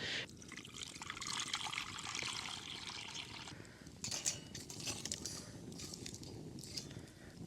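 Water pours and trickles steadily into secondhand metal camping cookware, making a faint, continuous splashing with a few small clinks.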